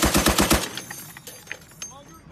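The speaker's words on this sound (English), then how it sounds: "Fatter burst, fat burst." Machine gun bursts: a rapid, loud string of shots fires for about half a second, then echoes and scattered faint pops trail off.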